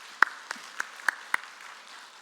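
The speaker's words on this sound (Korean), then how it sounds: "우리 남편들을 위해서 응원의 박수를 한번 해보도록 하겠습니다" A church congregation at a Monday intercessory prayer meeting claps in five sharp, evenly spaced beats that stand out clearly over a quiet room, then the room goes still.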